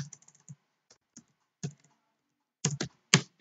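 Scattered keystrokes on a computer keyboard at a command prompt, a quick run of light taps followed by isolated clicks and a few louder key presses, close and clear with no talk.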